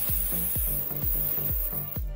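A plasma arc lighter from AliExpress being blown on: a steady, harsh electric buzz with a hiss, broken by regular whooshing puffs of breath about every half second, loud and close.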